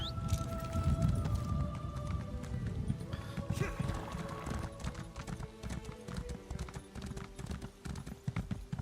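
Hooves of a horse in a video game clip-clop in a quick, steady rhythm, close and continuous alongside a snort or whinny, game ambience and a faint tonal hum, with a voice talking over it.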